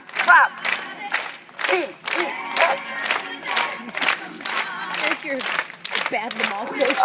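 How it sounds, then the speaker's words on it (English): A crowd at a flash mob rehearsal claps together in steady repeated bursts, with loud cheering and shouting voices mixed throughout. "Everybody clap, clap, clap, clap, clap, clap, clap, clap,"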